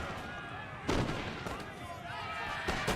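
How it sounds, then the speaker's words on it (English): Distant cannon booms from artillery in a Napoleon: Total War battle, a few sharp reports rolling out over battlefield noise while a voice talks. "Got my artillery firing still."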